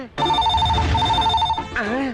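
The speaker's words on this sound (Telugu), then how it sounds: "అయ్యో, ఫోన్ మోగేసింది" A telephone rings in a film scene, one long electronic trilling ring that starts abruptly and holds steady before a voice speaks.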